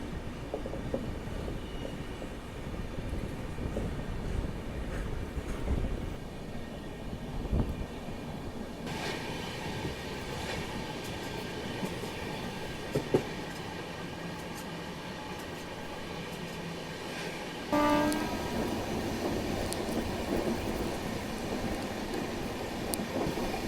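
The Indore Daund Express passenger train is running, with a steady rumble and clatter heard from inside, moderately loud and continuous, and the tone shifts a couple of times along the way.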